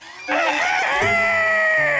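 A cartoon character from the children's series Oui-Oui imitates a rooster's crow in one loud, sustained, wavering call lasting about two seconds, with no other talking.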